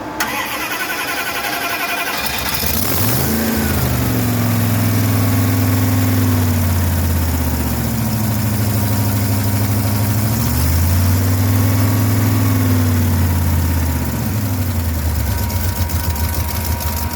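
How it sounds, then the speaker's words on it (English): A carbureted car engine cranks and catches after a couple of seconds, then idles steadily and loudly while warming up, its low rumble rising and falling as the revs drift. "This car warm up in the background"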